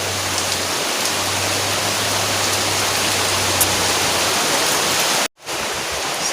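Steady rain falling outdoors in a rural Indonesian setting, a dense even hiss with a low hum underneath, briefly cut out near the end before resuming, no one talking.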